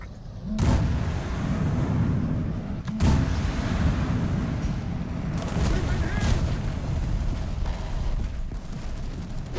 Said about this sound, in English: Artillery barrage on its way.